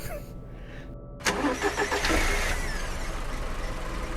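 A truck engine starting in a video game, a brief crank that catches at once and settles into a steady, fairly loud idle rumble with no talking.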